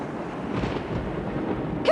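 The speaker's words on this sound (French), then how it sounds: "D'où peut provenir cette furieuse tempête?" Storm thunder in the 1999 PC game King's Quest 8 rumbles low and rolling, swelling midway and fading, ending with a brief brighter crack.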